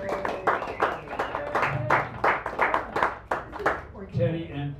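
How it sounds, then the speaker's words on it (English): Open mic audience at a San Francisco cafe claps for the hosts in a sparse, uneven patter of individual hand claps that trails off, with talking mixed in. "we forgot to give a round of applause to our hosts"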